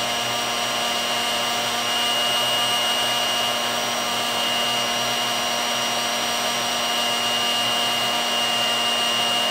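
A steady, loud heat gun whine runs unbroken for the whole stretch, an even airy roar of hot air with a constant motor hum and no voices, used on solder and cable terminations.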